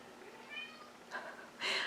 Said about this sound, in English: the cat is meowing. He's on the other side of the door.